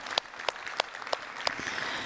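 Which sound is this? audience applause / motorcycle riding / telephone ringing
audience applause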